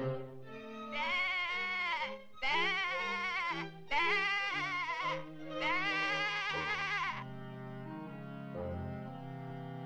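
Sheep bleating in a classic Looney Tunes cartoon, four long quavering bleats in a row over light orchestral music, with the music carrying on alone afterward.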